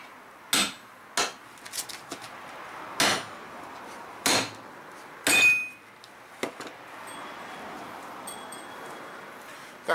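A hammer drives a piece of angle iron between a car tyre and its wheel rim during a roadside repair, sharp metallic blows struck irregularly about five or six times, close and loud, with no talk.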